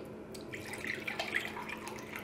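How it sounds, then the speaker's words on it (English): Water poured into a blender jar holding soaked almonds, a soft steady splashing and trickling at close range with no talking. "And then I'm also going to be putting 1 cup of water."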